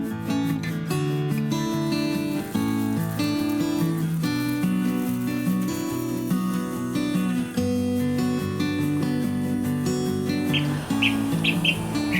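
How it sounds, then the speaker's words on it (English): Steady music plays throughout, and near the end a few quick, bright bird chirps ring out faintly above it. "Hear the birds?"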